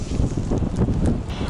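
Steady wind gusting across an outdoor field during metal detecting in the UK, a loud, rough broadband rush buffeting the microphone throughout with no let-up.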